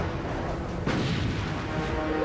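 Naval gunfire between the battleships Bismarck and HMS Hood: a loud, dense roar of heavy artillery with a sharp boom about a third of the way in, then rumbling on without voices.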